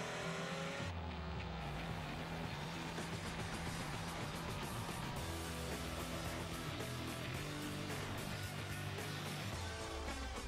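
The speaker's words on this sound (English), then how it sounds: "The new look Camry Sportivo V6 with responsive all alloy quad cam engine" A Toyota Camry Sportivo V6 with an all-alloy quad cam engine drives past in a TV advert, a loud continuous engine and road roar with passing whooshes and no speech.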